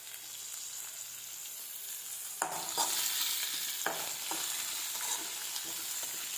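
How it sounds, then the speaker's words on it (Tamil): Onions, curry leaves and green chilies sauté in a pan for a country chicken curry. A steady sizzle runs throughout, and several sharp stirring scrapes and clatters sound close by near the middle. "வெங்காயத்தை நல்லா பொன்னிறமாக வதக்கிக்கணும்."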